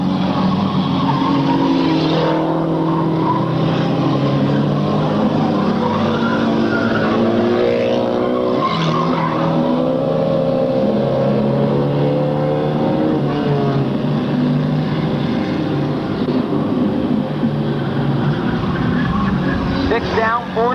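Race cars battling for second place out of turn four at Riverglade, engines roaring loudly and continuously as they pass close by, with a commentator talking over the noise throughout.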